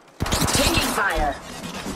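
Rapid gunfire in Rainbow Six Siege with Ash, a quick burst of loud, closely spaced shots that fades into a ringing tail, mixed with a voice speaking over it.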